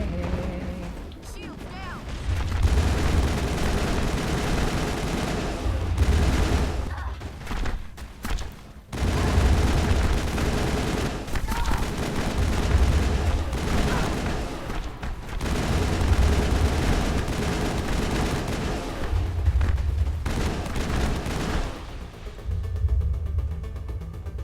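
Gunfire rings out in the Mass Effect video game, with repeated bursts of rapid weapon fire and heavy blasts coming in clusters across a long firefight, and brief quieter gaps between them.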